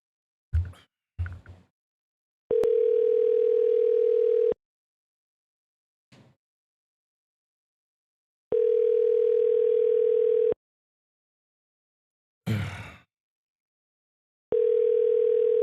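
A telephone ringback tone repeats in three long, steady two-second bursts with silent gaps, interrupted by brief clicks and handling noises between rings, with no talking.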